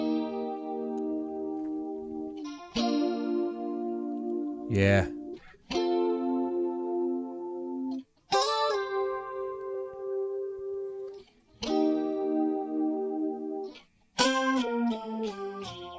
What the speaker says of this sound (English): Wow, it's really good stereo chorus